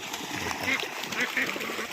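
Water flows and splashes steadily into a pond, with a continuous close rushing trickle heard under a voice speaking.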